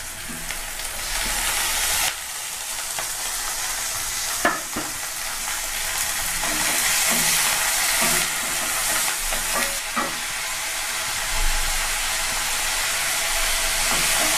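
Chopped tomatoes sizzle steadily in a hot pan for a Nagercoil-style crab curry, with a broad frying hiss and occasional spoon scrapes and clinks as they are stirred, close and continuous throughout.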